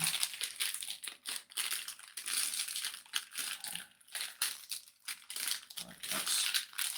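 A plastic cereal bag crinkles and crackles continuously as hands work at opening it without scissors, with irregular bursts of crisp rustling and brief pauses, close and fairly quiet.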